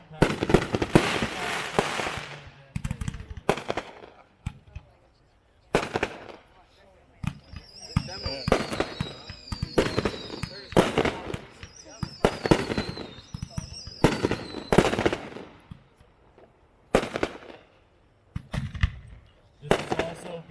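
Fireworks demo of heavy artillery shells from a 4-1 pack: repeated loud booming launches and crackling bursts, some with whistling tails, in an irregular rhythm, with a voice speaking between shots.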